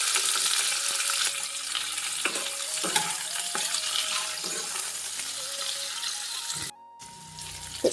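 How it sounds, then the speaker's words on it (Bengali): Chopped onion and capsicum fry in a little hot oil, giving a steady broadband sizzle with faint stirring clinks. The sizzle drops out briefly near the end before resuming. "তেলটা গরম হলেই পেঁয়াজটা দিয়ে দিচ্ছি এখন"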